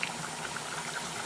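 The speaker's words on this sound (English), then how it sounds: "I got my noodles going over here in the pot too, y'all. They boiling." Noodles boil in a pot of water, giving a steady, close bubbling hiss with small pops throughout and no voices.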